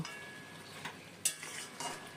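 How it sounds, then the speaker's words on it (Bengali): Spatula stirring mixed vegetables with sugar and fried lentil dumplings in a pan, a few soft scraping strokes over a faint sizzle, quiet and close. "চিনি আর বড়িটা মিশিয়ে দিয়ে একটু খুঁতি দিয়ে একটু ঘেটে দিলাম"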